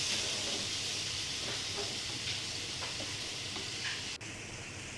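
Spices sautéing in hot oil, a steady close sizzle and hiss with faint stirring clicks throughout, dropping slightly in level near the end.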